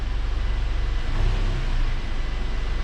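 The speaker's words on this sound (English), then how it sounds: "If I just blip the throttle slightly" A VW EA888 Gen 3 engine with an oil pressure fault rises briefly in a short throttle blip over a loud, steady, close running drone in a workshop.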